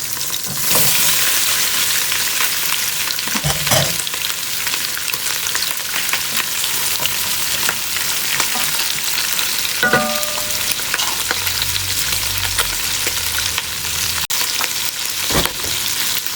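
Pork frying and being stirred in a pan with red chili gives a steady, close hiss and sizzle, broken by scraping and clattering stirs, without talk.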